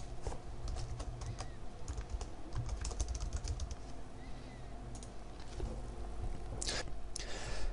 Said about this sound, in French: Il suffit de taper restaurant indien dans la destination.